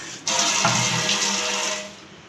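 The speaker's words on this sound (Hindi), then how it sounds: "इसके अंदर 1 गिलास हम पानी का डालेंगे" A glass of water poured into a cooking pot for aloo beef, giving a close, steady splashing pour for about two seconds that tapers off at the end.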